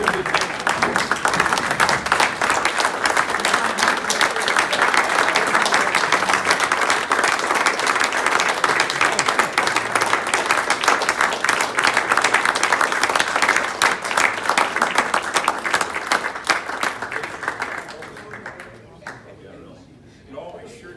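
A Rotary meeting audience breaks into sustained, loud applause with dense clapping and some cheering for a long stretch, fading out near the end as a voice begins to speak.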